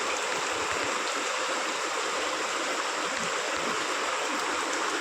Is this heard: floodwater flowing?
yes